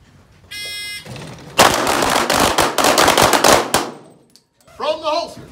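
At a pistol match during a tactical conference, a shot-timer beep is followed by a loud, rapid volley of pistol shots. A voice follows afterward.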